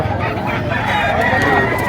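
A three-year-old white rooster offered for sale at a market crows once, loud and close, over a noisy background with people talking around it.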